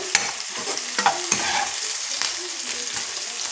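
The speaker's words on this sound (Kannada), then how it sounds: "ಈ ಥರ ಫ್ರೈ ಮಾಡ್ಕೋಬೇಕು ಈರುಳ್ಳಿ ಚೆನ್ನಾಗಿ ಫ್ರೈ ಆಗಬೇಕು" Onions sizzle steadily in a hot pan as a spatula scrapes and stirs them, with several sharp clacks against the metal over a continuous bright crackle.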